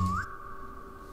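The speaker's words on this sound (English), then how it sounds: "What was that whistle?" A whistle sounds in a Roblox SCP video game: a short rising sweep settles into one steady, clear tone that holds for about a second with no speech over it.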